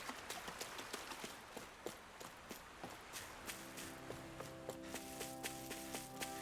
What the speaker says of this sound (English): Those horses are unnecessarily muscly.